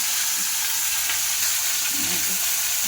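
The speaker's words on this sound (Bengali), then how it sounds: "মাছটা ভাজা হোক" Fish fries in a pan on a home kitchen gas stove, with steady, loud, continuous sizzling and spitting oil that barely changes, while a few faint clinks and stirs come through.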